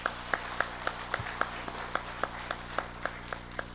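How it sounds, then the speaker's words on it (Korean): Sparse, rhythmic clapping from a church congregation at a Christmas Sunday worship service, with evenly spaced claps over a steady low hum, fairly faint. "우리 하나님께 영광의 박수 드리겠습니다"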